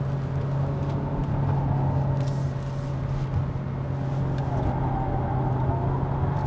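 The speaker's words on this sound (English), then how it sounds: "let's check out the handling capability of this all-new Hyundai Elantra Hybrid" A 2021 Hyundai Elantra Hybrid being driven through corners to test its handling, with a steady low engine drone, road rumble and tire noise from inside the cabin, constant throughout and with no talking.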